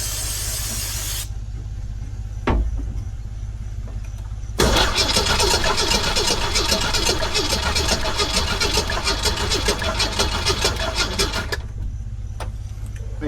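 A Jeep CJ7 engine cranks over repeatedly in one long, steady, loud burst after a brief click, the starter grinding rhythmically for several seconds without catching, then cutting off to quiet.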